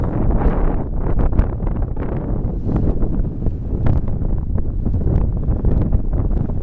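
Strong, steady wind on the top of Castle Hill buffets the microphone with a constant low roar and gusty rumble, no voices, lasting the whole stretch.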